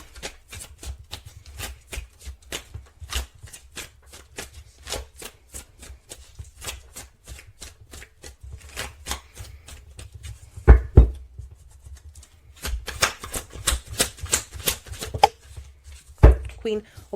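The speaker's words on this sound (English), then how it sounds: "I will shuffle the cards once more." Tarot cards being shuffled in repeated quick riffles and taps, close and crisp, with a few louder slaps of the deck; a voice speaks briefly now and then.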